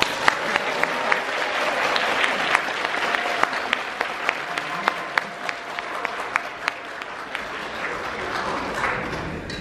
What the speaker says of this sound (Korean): 여러분의 박수와 환호성으로 시작하겠습니다